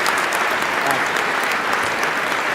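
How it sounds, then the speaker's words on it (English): An audience at a 2019 PIA meetings and symposium event breaks into steady, dense applause, loud and close, with many hands clapping continuously and no voices. "Ladies and gentlemen, a big round of applause for the Lowrys."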